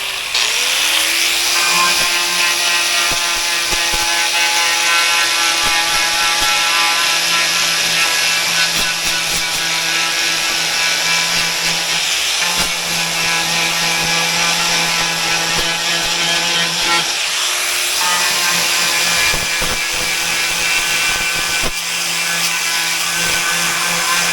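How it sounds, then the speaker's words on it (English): A power buffer grinds rust off the steel frame of an enclosed trailer ramp, running loud and steady with a continuous whine that dips briefly and resumes, with no talking. "I'm going to buff that out. Okay, removing that rust is going to be easy."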